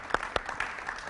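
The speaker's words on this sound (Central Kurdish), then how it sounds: "ئەم ئەزیزانی کە لە ستودیۆ بوون چەپڵەیەک بۆ خۆتان" Studio audience applauding at the close of a Kurdish television music programme, a short burst of clapping with a few sharper claps standing out, moderately close and not very loud.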